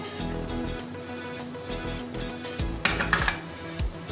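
A metal spoon scrapes and clinks in a pan while red chili, turmeric and crushed coriander are mixed for kata kat, a run of close, moderately loud stirring knocks.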